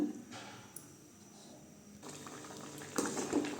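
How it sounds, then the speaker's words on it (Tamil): A pot of radish curry bubbles and simmers quietly, a soft continuous boil with faint clinks and movement toward the end. "குழம்பு நல்லா கொதிச்சிருச்சுங்க"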